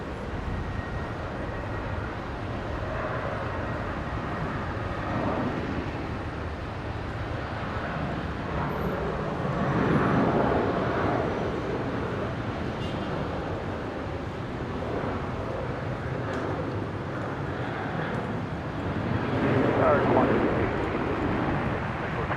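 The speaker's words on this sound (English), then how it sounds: "departure here on 19 left is actually Rex 913 heading to Adelaide" A Rex Airlines aircraft taking off from runway 19 left at Brisbane airport, a broad steady engine roar heard at a distance that swells and eases over time, with wind noise and talk over it.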